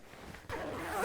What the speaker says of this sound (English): And then I'll zip this coat up.